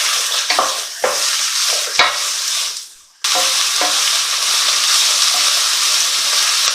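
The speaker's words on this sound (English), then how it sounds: "We're just going to cook them for about 5 to 10 minutes, just stirring them." Chopped vegetables for a beef stew sizzle steadily in a hot pan, with the scrape and clatter of repeated stirring over a constant frying hiss and one brief lull.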